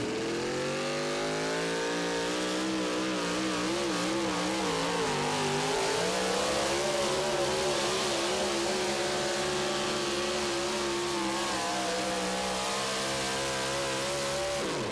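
A Profab-geared pulling truck at an NTPA truck pull roars loudly and continuously, its engine pitch wavering and climbing as it bounces down the track, with no talk over it.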